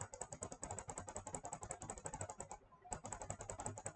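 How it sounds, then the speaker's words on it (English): Rapid, quiet clicking from a computer mouse, a steady train of sharp little ticks with a brief pause partway through, close and faint. "Sorry for your clicking noises, that's just my mouse"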